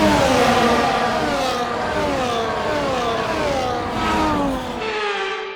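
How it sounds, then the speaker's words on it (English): F1 cars on the formation lap in F1 24 at Japan, engine whine rising and falling as they rev and shift gears, loud and close, with the drone cutting away at the very end. "As the cars make their way back to the starting grid to form up and get ready for lights out"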